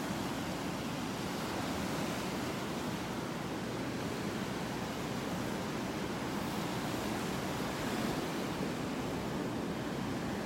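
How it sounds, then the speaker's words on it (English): Steady ocean surf at a beach in North Naples, Florida, a continuous broad wash of waves with no distinct breaks, heard alone without voices. "I could hear the surf at my house this morning."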